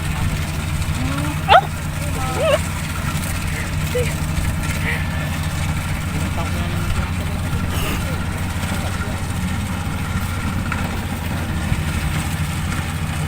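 A 35-horsepower farm machine engine runs on a rural field, a steady low rumble with a constant hum under everything, with people talking intermittently and a dog barking briefly near the start.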